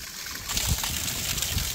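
Spring water trickling and splashing into a container at a mountain spring, a soft, close, continuous burble that swells slightly partway through.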